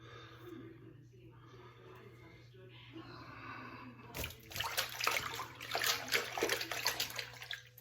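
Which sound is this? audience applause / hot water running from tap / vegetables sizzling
hot water running from tap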